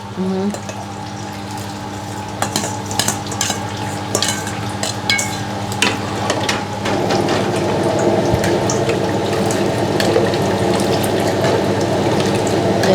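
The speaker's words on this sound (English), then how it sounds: "Yeah, put in the syrup." Syrup poured into a simmering pot of mung bean dessert, giving a steady liquid pour with bubbling and stirring that grows fuller and louder partway through, close and continuous.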